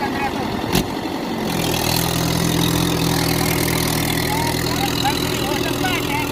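A tractor engine idles steadily just after starting, with both levers down, a continuous low rumble that holds even and close throughout, following a brief louder burst near the start.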